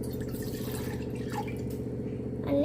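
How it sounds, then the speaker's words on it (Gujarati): One cup of water goes into a cooking pot before making a healthy Maggi noodle dish, a steady close trickle and dribble of liquid that holds fairly even throughout. "એક તપેલી લેવાની, પછી એની અંદર 1 કપ પાણી નાખવાનું"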